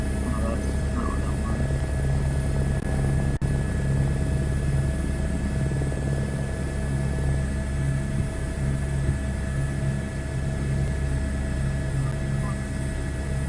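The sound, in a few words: helicopter rotor running in video game Microsoft Flight Simulator 2024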